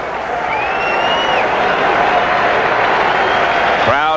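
A big Kingdome baseball crowd roars continuously through extra innings of a 1995 playoff game, a dense, loud, sustained wall of cheering and applause with whistles rising above it, louder near the end.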